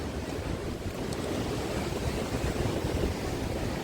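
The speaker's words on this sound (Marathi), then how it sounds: "खूप जास्त वारा आहे" Strong monsoon wind at the Ratnagiri seashore roars steadily across a microphone, with a broad rushing low rumble and surf-like noise from rough sea, no voices.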